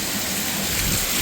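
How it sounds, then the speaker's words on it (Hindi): Heavy rain pours steadily in a dense, close hiss with no voices, while a ceiling fan runs fast. "पंताड़ा कितनी तेज चल रहा, इसका तो पानी आ रहा पूरी तेज बारिश है।"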